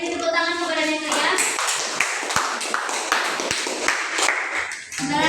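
Classmates clap for a student in a school classroom during a microteaching practice lesson, a brief burst of scattered hand claps with some sharp taps, mixed with voices talking and a sung or spoken tone at the start and end.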